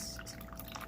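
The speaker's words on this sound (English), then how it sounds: "We're going to have to add some more water." Water pours into a cup for a science experiment with oil and coloured water, a faint, soft trickle with small splashes and no talking.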